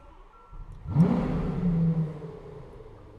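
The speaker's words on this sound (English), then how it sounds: "foot on the brake, pressing the start button" A Lamborghini Aventador S LP740-4 V12 coupe starts with a sudden loud burst on the starter, then revs briefly before settling into a deep, throaty idle rumble, heard up close with no talking.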